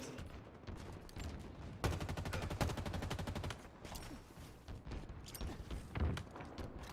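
Assault rifle fire in the Halo video game: one rapid automatic burst of evenly spaced shots lasts under two seconds, set against quieter game noise with scattered thumps before and after.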